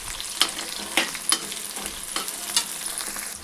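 Onions frying in a pan for a homemade fish curry, with a steady sizzling hiss and a few sharp clinks and scrapes of stirring spread throughout, close and moderately loud with no talking.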